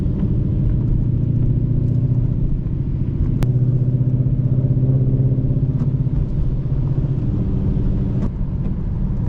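A Ford Mustang GT driving on snowy roads, heard from inside as a steady low engine rumble and road drone throughout, loud and continuous with faint small clicks on top.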